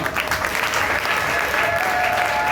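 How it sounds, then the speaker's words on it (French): Loud, sustained applause from a church congregation during a morning worship service, a dense even roar of many hands, with a faint voice or tone running underneath. "peux-tu rendre les acclamations dignes à notre Dieu ce matin?"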